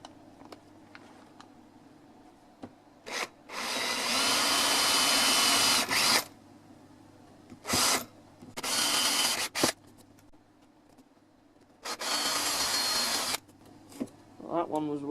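A power drill bores into wood for a handmade wooden keyboard, running in several bursts of varying length with quieter handling noises and pauses in between, close and fairly loud.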